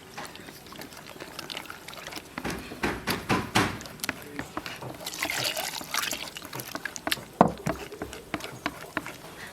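Water poured into buckwheat flour batter while chopsticks stir it in one direction, irregular wet sloshing and trickling in bursts at close range, with no voices.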